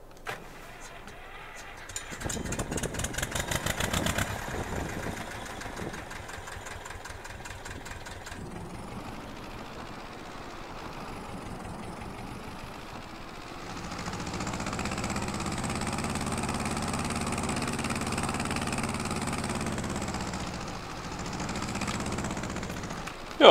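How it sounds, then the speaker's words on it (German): A 30 hp tractor engine driving at 26 km/h in Farming Simulator 22, a steady mid-pitched engine drone that changes character partway through, with clicks and a rise in level later on. "30 PS hat das Ganze, 26 km/h fährt. Und genau diese 26 km/h werden wir uns jetzt auch mal noch miteinander anhören"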